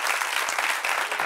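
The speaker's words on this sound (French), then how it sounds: "On l'applaudit pendant qu'il arrive" A crowd claps steadily in a dense, continuous round of applause, fairly close and even in loudness throughout.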